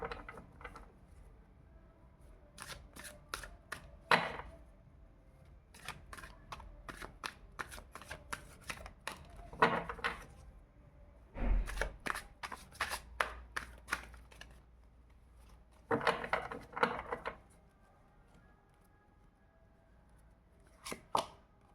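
A deck of tarot cards is shuffled in several separate bursts of brisk riffling and flicking, close up, with quiet pauses between them and no talking.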